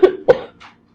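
A person coughs twice in quick succession, close and fairly loud, followed by a softer breathy exhale.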